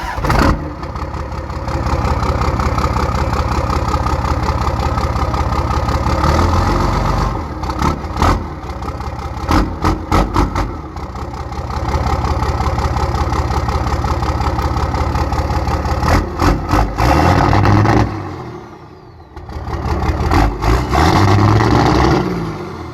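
Cummins diesel truck engine idling after a VGT delete, a loud close rumbling idle with the exhaust nearby, running steadily with a few short revs and brief dips in level, no talking.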